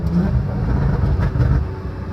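A 2014 Porsche Cayman 4.25L flat-six engine with a Dundon Motorsports exhaust roars steadily, loud and close, a deep rumbling drone with no talking over it.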